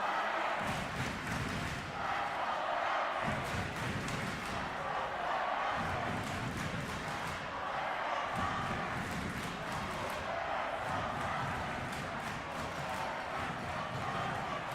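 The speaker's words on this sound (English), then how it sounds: "And the crowd's even getting louder." Dense, loud crowd noise fills a gym at a senior girls' volleyball finals between KSS and Frontenac, with steady cheering and rhythmic chanting swelling throughout and no clear pauses.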